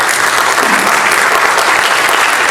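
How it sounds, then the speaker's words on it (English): Audience applause at a human rights institute event, dense sustained clapping, loud and close, with no talk over it. "to applaud you for what you're doing"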